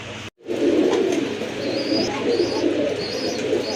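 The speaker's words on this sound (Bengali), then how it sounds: "ইন্ডিয়ান বোম্বাই কবুতর, পুতুলের মতো সুন্দর, দুধের মতো সাদা" An Indian Bombay pigeon, pure white, cooing in a loft: soft low throaty coos repeat close by after a brief moment of silence, with a few faint higher chirps from other birds in the background and no talking.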